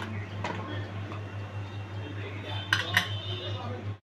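A metal spoon clinks and taps against a pot a few times while homemade butter is added to washed rice, over a constant low hum, with a brief cluster of sharper clinks near the end.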